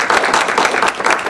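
A lecture-hall audience applauds to welcome a speaker: steady, dense clapping from many hands, filling the whole short moment without pause.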